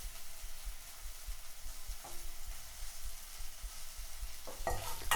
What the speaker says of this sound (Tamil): நல்லா பரத்தி விட்டு ஃப்ரை பண்ணிடுங்க.